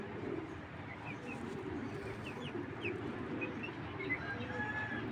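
A pigeon coos softly amid a murmuring flock, with scattered small chirps and clucking-like calls repeating over several seconds at low volume.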